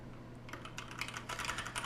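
Typing on a TADA68 mechanical keyboard fitted with Gateron Clear linear switches, 35-gram and non-tactile, with a quiet start and then a quick run of light, close-up keystrokes clicking along with no one speaking.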